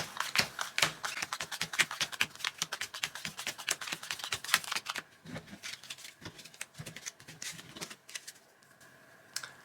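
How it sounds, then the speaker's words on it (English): Jar cards from the Noctiluca board game are shuffled and dealt on a tabletop, a quick run of soft crisp flicks and riffles up close, then scattered lighter snaps. "Shuffle the jar cards"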